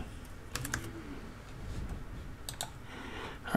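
Computer keyboard keys are typed on during 3D scene editing software work, giving a few scattered clicks and short bursts over a low background hum, fairly faint and close.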